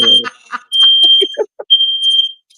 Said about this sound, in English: the alarms go off and you open the door